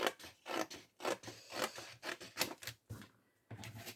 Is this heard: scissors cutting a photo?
yes